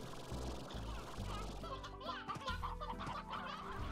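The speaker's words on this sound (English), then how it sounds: "Chickens!" Chickens cluck and squawk in the farming video game Slime Rancher, a busy run of clucks over a steady game music bed, fairly loud throughout with a few higher calls near the end.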